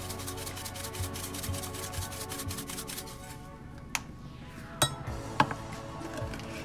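A thick, creamy vegan spinach dip without sour cream being stirred in a bowl, a repeated rubbing scrape up close that eases off, followed by a few sharp clinks of utensil on the bowl.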